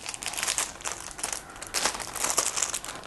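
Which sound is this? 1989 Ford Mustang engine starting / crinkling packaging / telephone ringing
crinkling packaging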